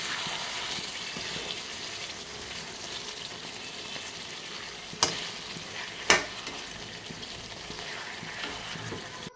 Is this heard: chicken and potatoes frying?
yes